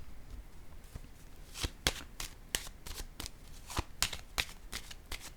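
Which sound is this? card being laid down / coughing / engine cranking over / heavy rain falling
card being laid down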